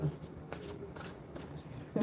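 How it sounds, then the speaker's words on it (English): A deck of cards being shuffled up close, with several quick riffling bursts and short pauses between them; no talking is heard. "let's shuffle them"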